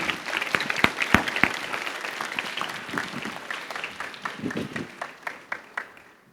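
Audience applause at the St. Paul American School Hanoi class of 2025 graduation ceremony, a dense crowd clapping that peaks early, then thins into scattered, fading claps.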